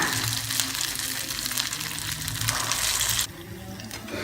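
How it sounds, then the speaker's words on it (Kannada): Sukkinunde sweet balls dipped in batter are slowly lowered into hot oil, giving a loud, steady, close sizzle that drops to a quieter hiss near the end. "ಹಿಟ್ಟಲ್ಲಿ ಮುಳುಗಿಸ್ಬಿಟ್ಟು ನಿಧಾನವಾಗಿ ಎಣ್ಣೆಗೆ ಬಿಡೋಣ"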